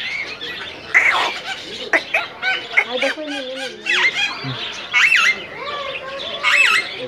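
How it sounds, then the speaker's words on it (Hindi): Parrots of several species call at Lucknow zoo in a dense mix of chirps and squawks, with loud calls bursting out every second or so and a person talking over them. "यहाँ पे तोते हैं अलग अलग प्रजाति के"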